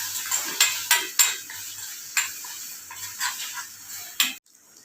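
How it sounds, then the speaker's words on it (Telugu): Egg seasoned with salt, chilli powder and turmeric being stirred in a pan, roughly a dozen sharp spatula scrapes and clinks in an irregular rhythm over a faint sizzle, near and clear, with no voices. "ఎగ్ వేసుకొని కలిపిదాం తిప్పుదాం"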